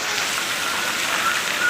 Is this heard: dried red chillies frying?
no